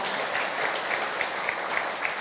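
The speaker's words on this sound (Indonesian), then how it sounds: "tepuk tangan untuk semangat kita semua" An audience at an Islamic youth talk applauds in a soft, continuous patter, fairly distant and even, with a few slightly louder claps standing out.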